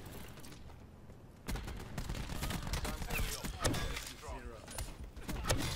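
Gunfire from a sniper's nest in a video game, sharp shots and bursts rising after a quiet start, mixed with game noise, while players talk over it.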